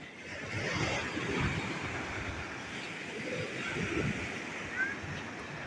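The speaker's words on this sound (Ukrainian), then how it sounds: "Такі хвилі." Sea waves wash steadily onto a southern shore, a continuous broadband rush that swells and eases without pause. Faint voices may sit beneath the surf.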